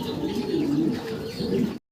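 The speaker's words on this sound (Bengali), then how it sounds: "দর্শক ভিডিও স্ক্রিনে আপনারা যে কবুতরগুলো দেখতেছেন এগুলা বায়ের খামারের ফোস্টার হিসাবে আছে" Pigeons kept as fosters on a farm, cooing in soft, rolling throaty phrases close to the microphone, continuous for a moment before cutting off abruptly.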